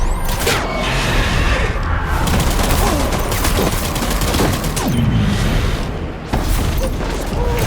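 Shootout gunfire in the video game Death Stranding, loud dense bursts of rapid shots and heavy booms in close succession, sustained throughout with brief gaps.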